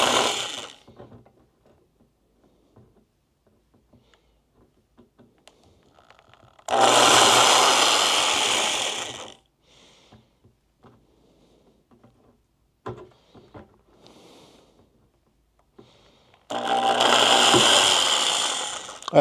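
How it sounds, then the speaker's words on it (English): A handheld drill bores a starter hole for a low-budget aquaponics system in two bursts of whining, grinding mechanical noise several seconds long, separated by quiet pauses with faint handling clicks. "I just need enough to get the drill bit in."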